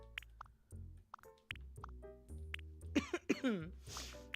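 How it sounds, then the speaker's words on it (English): Repeated coughing from a person who is a little sick, several short harsh bursts in an irregular rhythm, close and fairly loud, ending with some throat clearing and wet mouth sounds. "Trying not to do much coughing on camera"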